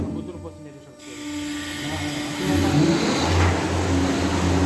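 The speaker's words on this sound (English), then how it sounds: "The guy just started the pump." Pump on a Carpathian SMFA 100 sawmill starting up, a steady mechanical hum that swells into a louder droning run, with people talking nearby.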